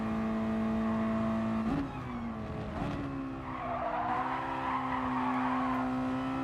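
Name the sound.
race car sliding sideways, tires skidding, in video game GT Sport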